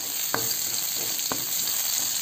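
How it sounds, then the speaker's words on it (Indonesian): Green chili sautéed with shallots and garlic in a home-style village kitchen sizzles steadily in hot oil, broken by two brief stirring scrapes, with no voices. "Tumis sampai harum cabenya"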